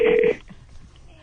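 Telephone keypad dialing tones sound as a short bright steady beep at the start, then cut off into quiet line noise with a faint faraway tone.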